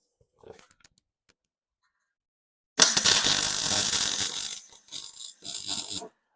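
A cut section of a Nova 4x4 build being bolted up with a rapid ratcheting tool, a loud close whirring-clicking run of about two seconds followed by two shorter bursts after brief faint sounds and near silence.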